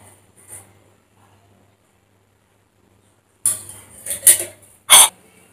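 A metal pan set down on a home kitchen stove for cooking egg masala curry, giving a few sharp clanks and scrapes near the end after quiet.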